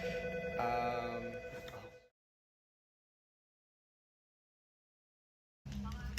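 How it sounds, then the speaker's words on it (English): Telephone ringing: a loud electronic ring burst, then about three and a half seconds of silence, then the ring starts again. "Phone ringing off the wall."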